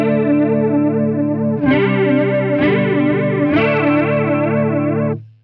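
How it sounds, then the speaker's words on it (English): An electric guitar played through a flanger pedal rings out sustained strummed chords with a sweeping, whooshing jet-like modulation, three chord changes struck in turn before the sound cuts off cleanly. "So let's check out the flanger next."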